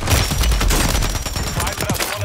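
Rapid, dense gunfire in a Call of Duty match, close and loud bursts blending into a constant crackling barrage with no pauses.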